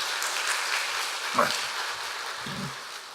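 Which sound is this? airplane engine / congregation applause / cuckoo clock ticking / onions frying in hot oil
congregation applause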